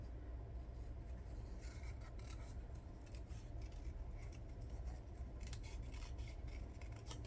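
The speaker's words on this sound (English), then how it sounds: "I'm cutting around it. Just cutting the white part off of this" Continuous rasping, rubbing snips of scissors cutting through paper, steady and close, with no talking.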